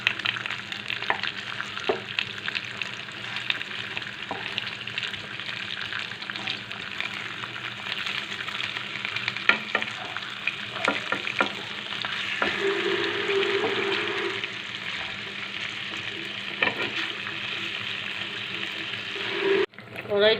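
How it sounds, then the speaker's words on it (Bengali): Fish that has just been turned over keeps frying in mustard oil in a wok, a moderate steady sizzle with scattered utensil knocks and a brief clatter near the end. "মাছগুলো উল্টে দিচ্ছি।"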